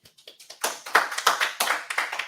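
A brief patter of clapping from a small group at a robotics teleoperation demonstration, quick and uneven, starting sparse and thickening into light applause for a couple of seconds.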